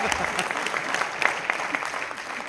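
Scattered applause from a few audience members at a business seminar, a light patter of clapping under a murmur of voices in the room.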